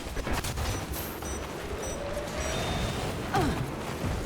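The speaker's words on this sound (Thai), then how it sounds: "ระหว่างนี้ก็ยิงปืนกับดักไปด้วยครับ" Rapid bursts of gunfire in the video game Evolve crackle under a busy electronic soundscape, with a few brief tonal beeps and a swooping effect near the end.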